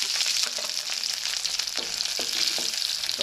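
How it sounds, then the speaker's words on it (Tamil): Mustard seeds, dried chilies and garlic tempering in hot oil, with a steady bright sizzle and scattered crackles and pops as the seeds sputter in the pan. "இப்போ கடுகு போட்டுக்குவோம். 3 பட்டை மிளகா போட்டுக்குவோம். பூண்டு போட்டு தாளிச்சுக்குவோம்."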